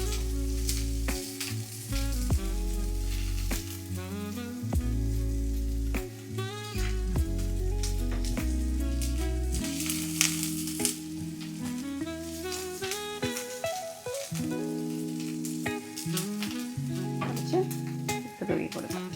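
Sliced large onion sizzling steadily in a hot pan for an unakkachemmeen (dried shrimp) stir-fry, with occasional stirring scrapes throughout and a voice talking over it at times.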